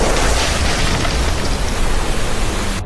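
A cartoon dam bursting open, torrents of water rushing out in a loud, continuous broadband roar that holds steady for nearly three seconds before cutting off abruptly.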